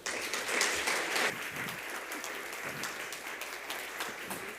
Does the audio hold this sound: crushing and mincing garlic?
no